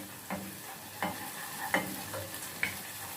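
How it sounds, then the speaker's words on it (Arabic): Onions sizzling in oil in a home kitchen pan, cooking until golden, with a steady low frying hiss and a few sharp spatula scrapes and taps spaced through the stretch, close and fairly quiet. "انا كده بشوح البصله، مستنيه بس لونها يبقى ذهبي"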